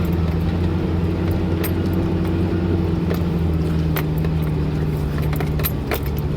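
A Jeep engine labors steadily uphill on the upper section of the Morrison Jeep Trail, a continuous low drone and rumble with faint rattles and clinks from the vehicle over the rough ground, with no one talking.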